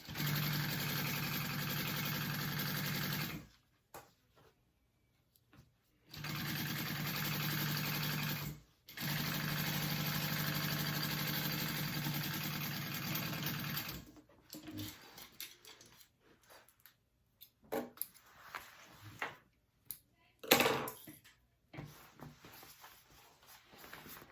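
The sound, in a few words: sewing machine stitching a 3/8 inch seam on a tote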